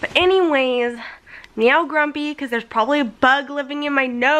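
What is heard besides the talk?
None of the usual background noises is heard.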